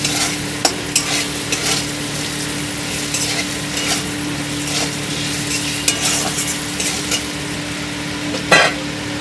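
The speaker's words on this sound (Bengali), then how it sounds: "একটু নেড়ে চেড়ে নেবো" Bottle gourd stalks with turmeric are stirred in a frying pan, a steady sizzle beneath occasional scraping of the spatula against the pan and a few sharp knocks, close and continuous, no voices.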